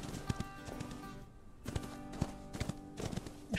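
Horse hoofbeats from a Wild West video game set in a snowy mountain region, a steady clip-clop rhythm of several hooves over a low rumble and tonal game music, with a brief quieter gap partway through.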